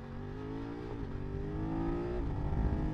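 A 2022 BMW F900R motorcycle accelerating, its engine note climbing steadily in pitch and loudness over a few seconds, close and continuous, with the tone dipping briefly as it shifts before rising again.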